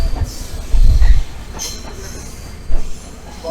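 Third class mountain train in Sri Lanka rolling on its rails, with heavy low rumbles and clunks from the wheels, faint squeals, and a steady rattling carriage noise heard from on board.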